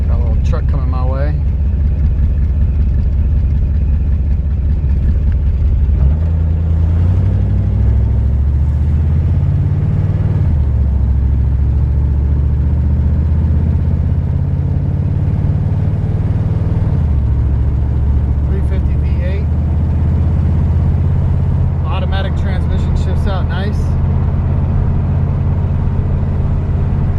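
A 1947 Mercury Coupe drives along a road, its engine a loud, low drone that rises and falls as it shifts through gears, while someone talks over it throughout.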